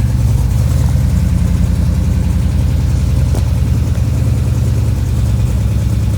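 1967 IH Loadstar 1600 truck engine idling after an overhaul, a loud, close, steady low rumble with an even, unbroken rhythm and no talk.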